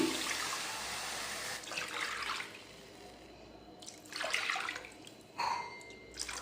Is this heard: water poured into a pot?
yes